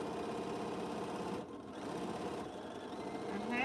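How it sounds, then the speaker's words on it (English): A sewing machine stitches dark and light quilt-block fabric pieces together in a continuous close rattling hum, dipping briefly partway through before resuming and growing slightly louder at the end. "So now I'm going to sew another dark piece on the other side"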